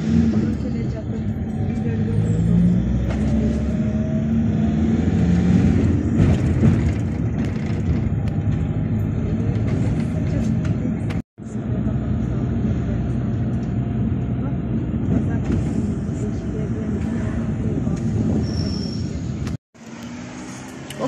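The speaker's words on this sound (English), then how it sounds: "Oh, I think that's one coming now, that white bus." A white bus drives along a road in Tokmok, Kyrgyzstan, its engine rumble and tyre noise loud and steady throughout, with someone talking over it.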